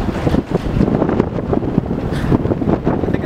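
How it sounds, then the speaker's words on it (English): Strong wind gusting outdoors, buffeting the microphone with loud, uneven rumbling bursts that rise and fall throughout. "Oh, it's windy."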